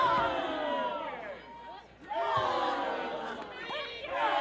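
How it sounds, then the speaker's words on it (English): Wrestling crowd cheering and shouting through a strike fight in a women's three-way match, a loud sustained roar of chatter and yells that swells, dips briefly, then surges again. "And you can hear the crowd."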